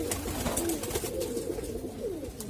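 Racing pigeons coo in low, rolling murmurs, several overlapping calls close by against a soft background hum.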